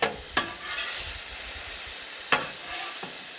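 A cheesesteak sizzles on a Blackstone griddle with a steady broad hiss, broken by a few sharp scrapes and clacks of a spatula against the metal surface, close and without talk.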